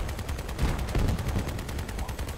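Rapid, continuous weapon fire from the vehicle combat video game Crossout, a dense non-stop rattle of shots pulsing evenly throughout at a steady loud level.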